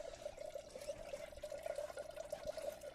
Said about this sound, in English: Get a little wash on my hands.